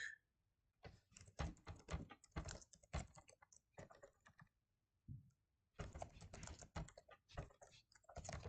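Rapid typing on a computer keyboard up close, with dense bursts of clattering keystrokes broken by short pauses and one longer gap before a final busy run.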